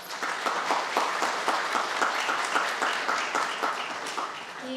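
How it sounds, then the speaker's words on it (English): Audience at a medical college graduation ceremony gives a steady round of applause, dense overlapping clapping sustained at even loudness throughout with no talk. "Round of applause."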